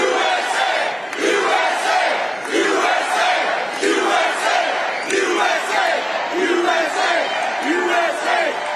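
Large crowd at a Trump rally in Wisconsin roaring and chanting in loud rhythmic surges, voices rising and falling together in repeated waves, close and full.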